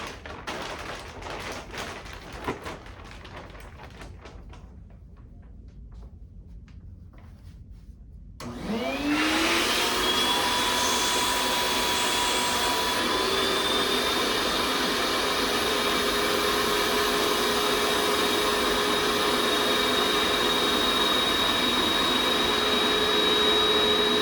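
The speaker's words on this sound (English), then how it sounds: "use the HEPA-vac to suck up any excess air" A HEPA vacuum switches on with a sudden loud roar partway through, then runs steadily with a rising whine while sucking up debris during asbestos floor tile and mastic removal, after a stretch of quieter rustling and knocks.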